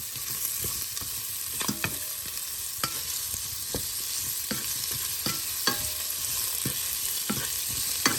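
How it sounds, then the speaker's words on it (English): Sugared pork fries in a pan under a constant hissing sizzle while a utensil stirs it, with sharp scrapes recurring every second or so, close and with no voices. "add a little tablespoon of sugar and stir it"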